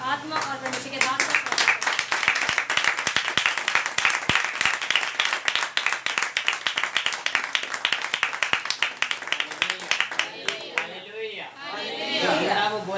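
A church congregation at a holy communion prayer meeting claps loudly in a fast, rhythmic unison beat, close and strong, with voices talking over it near the end.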